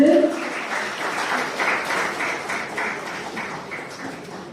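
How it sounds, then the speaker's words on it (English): Children in a school audience at a university fair applaud steadily, a dense rolling patter of claps at moderate loudness that slowly fades, with a brief voice at the start. "Keep clapping, come on, children."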